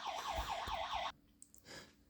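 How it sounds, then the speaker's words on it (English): A home alarm under test gives a loud, rapidly warbling siren for about a second, then cuts off abruptly into near silence. "We're testing out some alarms for our house"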